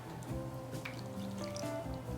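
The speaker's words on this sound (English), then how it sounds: "And we're gonna add in our water," Water trickles and drips into a paint dye mixture of Deco Art Americana purple and glycerin for coloring sola wood flowers, soft and faint against a low steady hum.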